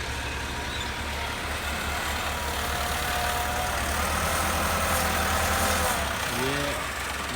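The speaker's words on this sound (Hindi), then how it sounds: "ये ट्राली को लोड करके ना अब ये पर आ रहा है ट्रैक्टर, यहाँ पर खाली कर रहा है इस नीचे ज़मीन में ना" A tractor hauling a loaded trolley at an excavator work site rolls in and tips its load onto low ground, its engine droning steadily and fairly close throughout, with a rising whine near the end.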